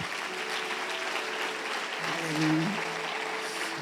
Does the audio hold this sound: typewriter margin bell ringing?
no